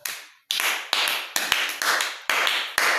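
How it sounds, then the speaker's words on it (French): Sharp bursts of crowd clapping and cheering for a young performer at a church gathering in Mbuji-Mayi, coming in about six surging waves that each start abruptly and fade slightly. "Acclamez très fort pour notre jeune talent."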